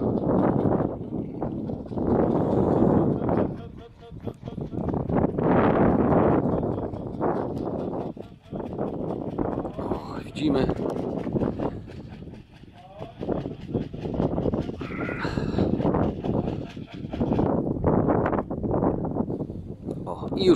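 Gusty wind buffets the microphone in repeated loud, rumbling surges during a racing pigeon arrival, with brief lulls between and faint higher sounds scattered through.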